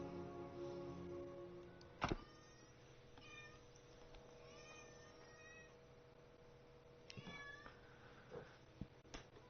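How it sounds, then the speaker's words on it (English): A cat meowing in the background of a room during an Enshrouded game session, several short separate meows spread across a low, steady hum, faint and fairly distant, with occasional thumps. "I have a cat in the background."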